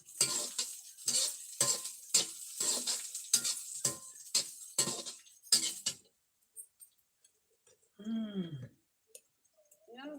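Spices, onion, garlic and bay leaf fried in a pan, with rhythmic scraping stirs against the pan, followed by quieter sizzling, faint clinks and a brief voice.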